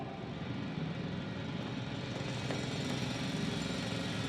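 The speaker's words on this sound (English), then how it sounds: "It's a drill." A loud industrial drill from the video game The Invincible roars in a constant, dense grinding rumble with a faint rattle, unbroken throughout and with no voices.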